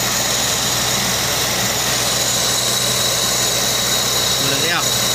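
A misfiring Toyota Vios engine idles with one injector unplugged, giving a steady, loud, rough mechanical drone that stays constant throughout.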